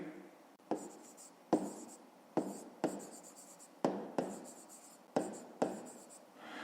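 Pen writing on paper while solving a fifth-grade maths exercise, a series of about eight quiet close scratchy strokes, each starting sharply and fading, with brief pauses between them.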